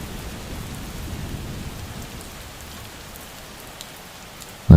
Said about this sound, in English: Let the sound of the rain for sleep wrap around you.